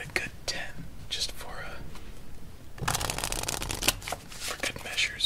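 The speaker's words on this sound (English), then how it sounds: "Shuffle this up. Let's give it a good 10," A deck of playing cards is shuffled close up in quick riffling bursts, with soft whispered speech in between.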